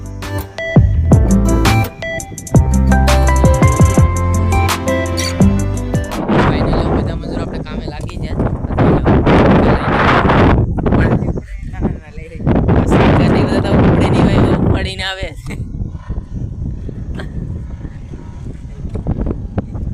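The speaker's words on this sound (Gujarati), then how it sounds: "હવે પવન અહીં જરાક વધારે છે એટલે આમ અવાજ થોડોક ઓલો આવતો હોય" Wind buffets the microphone in loud, rumbling gusts while a person talks over it; music plays briefly at the start.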